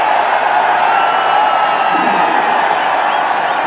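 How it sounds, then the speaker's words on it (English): A cricket stadium crowd at a 2013 India vs Australia ODI, heard as a steady, loud, wide roar that holds without a break for the whole stretch. "Have a look at the crowd."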